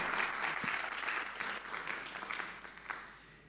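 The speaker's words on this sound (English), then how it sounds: "Round of applause." Audience applause fills a hall at an Asia-Pacific innovation summit: dense, steady clapping from many hands, loud and close, slowly thinning toward the end.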